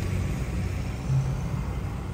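Road noise heard inside a moving car in Bahrain with the window open: a steady low rumble and broad wind-like wash, fairly loud and unchanging, no voices over it.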